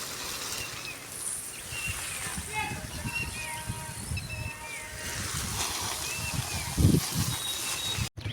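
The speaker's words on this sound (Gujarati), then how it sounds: "પછી મિત્રો આપણે પાવા માંડ્યા ઝાડવાને પાણી." Water from a hose pipe splashes steadily while trees are being watered outdoors, with birds and a voice talking over the continuous wash of water.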